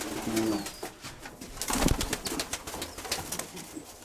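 Pigeons coo in a few low, soft bursts near the start and again around the middle, mixed with rustling and handling noise outdoors; no one speaks.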